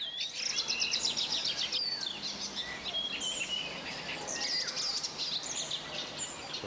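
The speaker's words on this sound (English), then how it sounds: "a never-ending concert by thousands of throats resounds in riparian forests in the spring" Spring dawn chorus in a riparian forest on the Vistula, many birds chirping and trilling at once in a dense, continuous high-pitched tangle, with insect-like buzzing mixed in and no voices.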